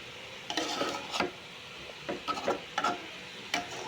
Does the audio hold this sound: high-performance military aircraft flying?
no